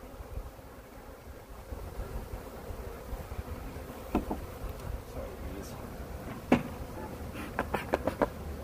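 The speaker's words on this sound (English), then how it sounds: "Bees." Honeybees buzzing around a newly installed beehive, a soft steady hum of many insects close by, with brief louder passes and a few sharp handling knocks near the end, over light wind noise.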